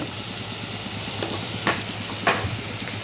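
Fish and eggplant curry being stirred in a pan, a low steady sizzle with a few sharp scraping clicks of the spoon against the pan, moderately loud with no talking.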